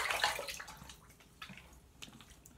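Water running and splashing while rinsing during a shave, a brief close rush that fades into soft trickles and drips, faint and without voices.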